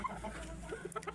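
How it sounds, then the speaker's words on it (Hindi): A white Chinese-breed rooster, shut in a pen with a white hen, gives a series of soft, short clucks. The clucks are fairly faint and irregularly spaced, with no talking over them. "मुर्गा हमारा चीना सफ़ेद"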